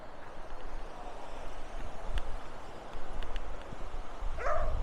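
Dogs playing on a beach below a coastal path, with a few short barks and yips that stay distant and faint against steady wind and outdoor noise, plus a clearer bark near the end.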